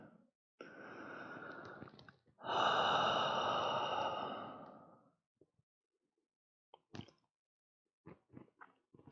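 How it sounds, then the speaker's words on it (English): Deep breathing during yoga practice: a long nasal inhale, then a longer, fuller exhale. Quiet rustles and small clicks follow. It is close and unhurried, with no talk. "2 more rounds of breath here"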